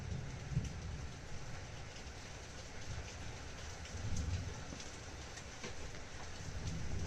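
Steady rain falls indoors-audible throughout a crochet session, a continuous broadband patter with slight swells in intensity and no talking over it.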